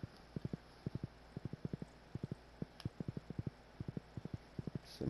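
Rhythmic clip-clop of horse hooves trotting steadily in quick paired beats in the video game Stardew Valley, fairly close, with a faint background hum and no talking.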